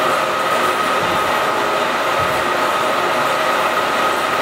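Steady loud mechanical whir and rumble of an ELS150 can seamer with its first and second operation rollers rotating, continuous and close with no talk.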